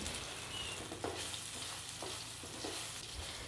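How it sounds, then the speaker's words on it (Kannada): Ground onion paste fries in ghee in a pan, a continuous soft sizzle with a few faint stirring scrapes. "ಅದಕ್ಕೆ ನೀವೀಗ ರುಬ್ಬಿಕೊಂಡ ಆನಿಯನ್ ಪೇಸ್ಟನ್ನು ಹಾಕಿ ಸರಿಯಾಗಿ ಫ್ರೈ ಮಾಡಿಕೊಳ್ಳಿ"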